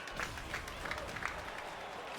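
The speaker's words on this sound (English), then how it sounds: "A light round of applause" Light applause from a Capcom Cup 2019 fighting game tournament crowd, steady soft clapping spread across the room with a faint crowd murmur under it.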